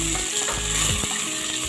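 Green chillies, curry leaves and coriander leaves sizzling in hot oil for a vegetable kurma, a loud, close hiss broken by quick clicking, rattling clatter.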